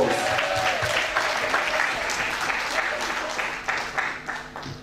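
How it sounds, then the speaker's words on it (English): Wedding guests break into warm, sustained applause at a ceremony, a dense patter of many clapping hands that fades slightly over a few seconds, with some voices mixed in. "Let's give a round of applause."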